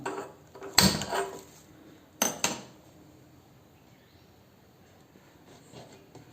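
A small metal frying pan (bandi) set down on a stove with two sharp clanks about a second and a half apart, near and alone in a quiet kitchen.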